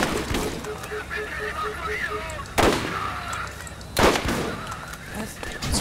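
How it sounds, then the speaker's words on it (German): Two sharp, loud critical-hit gunshot bursts a second and a half apart in Borderlands, heard over steady game background noise and faint chatter. "Zwei kritische Schüsse und der war weg."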